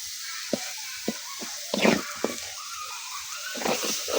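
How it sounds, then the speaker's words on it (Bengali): A coconut and shrimp curry cooks over a wood-fired stove, giving off a soft continuous sizzle broken by several sharp clinks and scrapes of stirring. "রুটি পিঠা খাওয়ার জন্য ঝোল পাকাচ্ছে নারকেল দিয়ে আর চিংড়ি মাছ দিয়ে"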